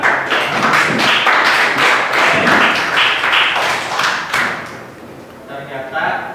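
An audience claps together after prize winners are announced at a school lesson, a dense steady patter of hands lasting about four seconds before it thins out and fades, with a few voices mixed in.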